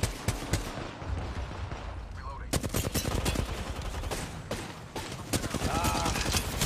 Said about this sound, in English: No, the third party is shooting at us.